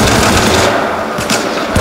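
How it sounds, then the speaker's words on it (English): Sustained rapid machine gun fire in the video game Syndicate, loud and dense, continuous bursts without pause for the whole short stretch. "Ah! Machine guns!"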